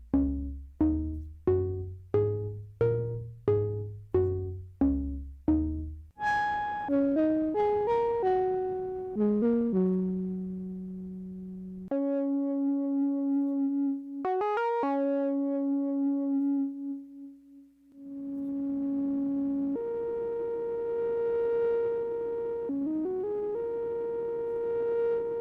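Five patches on a Roland SH-101 analog synthesizer play in turn: plucky stepping bass notes, a descending arpeggio, held drones and a sliding lead line, loud and alone without any voices.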